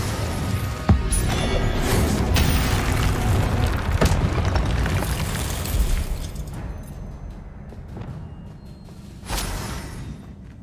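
Incendio fire spell in Hogwarts Legacy erupts with loud booming blasts and crackling fire, sustained combat roar that fades toward the end before a final burst, with almost no talk.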